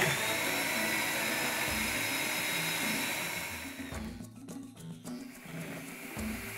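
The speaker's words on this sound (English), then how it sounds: "Now I can drill the hole to the proper depth." A drill bores a 5/8 inch pillar hole into a rifle stock, a steady high whine for about three seconds before the pitch drops and the cutting turns rougher and uneven, close and loud with no talk.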